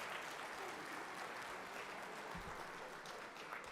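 Conference audience at a plenary general session applauding, a dense, even wash of clapping held at a moderate distance and fairly faint throughout.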